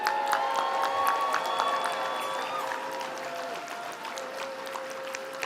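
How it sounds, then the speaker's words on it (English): A banquet audience at a National Federation of the Blind convention claps and cheers steadily and loudly, a dense wash of applause with scattered whoops sustained throughout. "Let's have a big cheer for our staff of the National Federation of the Blind."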